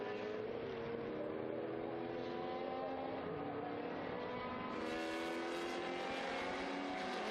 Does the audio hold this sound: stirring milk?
no